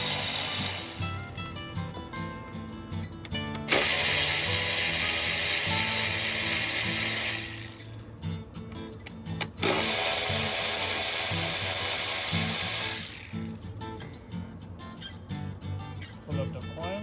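A ratchet fitted with an 8 mm socket works screws loose on a 2015 Ford Explorer during air intake removal. Quick clicking runs in bursts with long loud stretches of broadband noise between them, and a voice talks over parts of it.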